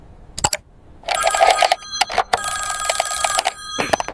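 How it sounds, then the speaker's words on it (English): A telephone bell rings indoors in an office setting, its sharp metallic trill sounding in two long bursts with short gaps, preceded and followed by brief clicks and knocks, loud and close with no voices. "Your phone rings. It's a blocked number."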